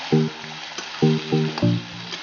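Steady oily sizzling of duck meat frying in a pan with onion, with several louder bursts of crackle and clatter as it is stirred.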